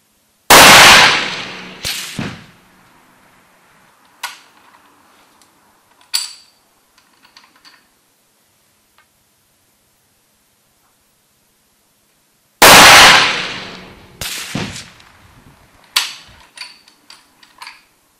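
Two sharp, loud rifle shots from a Browning X-Bolt synthetic-stock rifle in .270 WSM, about twelve seconds apart, each a hard crack followed by a fading outdoor echo and a few small clinks.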